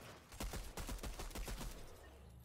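Quick bursts of gunfire from the video game Fortnite crack in a fast, even volley of about a dozen shots, fairly close but quiet in level.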